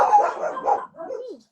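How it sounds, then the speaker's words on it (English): A dog barks and whimpers in short yips, close and fairly loud, with people talking over it during a casual podcast conversation. "your dogs is with the mailman there that late?"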